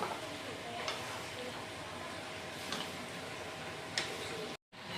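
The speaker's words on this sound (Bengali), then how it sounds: "আর এখন লবণটা একবার ভালো করে মিক্স করে নেব।" Chickpea ghugni being stirred after salt goes in, with a steady close sizzle and bubbling throughout and a few faint spoon taps on the pan at intervals, briefly cutting out near the end.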